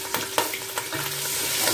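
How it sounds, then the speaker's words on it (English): Chopped onions hit hot oil for a Nigerian stew, with a few quick clacks of a utensil and then a rising, continuous sizzle close by, no voices. "My oil is hot, so I'll add my chopped onions."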